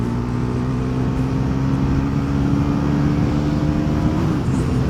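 A 400cc Bajaj Pulsar NS400 motorcycle in sport mode on XP-95 petrol, its engine a steady, loud, close drone that holds strong throughout and climbs slightly in pitch toward the end.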